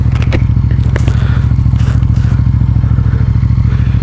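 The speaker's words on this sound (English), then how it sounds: "this bike does have something that I like very much, and that is a 270-degree crank, which sounds beautiful" A Yamaha MT-07 with a 270-degree crank idles close by in a loud, steady, throbbing rhythm of uneven pulses, with faint clatter on top and no voices.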